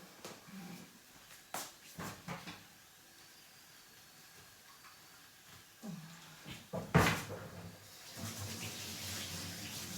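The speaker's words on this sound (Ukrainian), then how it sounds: "Миємо руки." A kitchen tap runs while hands are washed, with short splashes and clatter early on, then a stronger, steady rush of running water toward the end. Faint and close.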